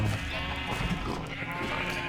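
Sheep bleat in the video game Minecraft, a wavering nasal call that carries over a steady game background, with no talk.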